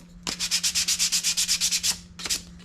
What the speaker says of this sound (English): Just real quick sand,